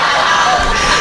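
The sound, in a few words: audience cheering at a Sundanese sermon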